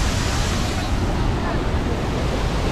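Hogenakkal waterfall on the Kaveri river roars as a steady, dense rush of falling water, loud and continuous throughout with no break.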